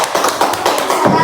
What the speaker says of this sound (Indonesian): tepuk tangan dong buat Hafiz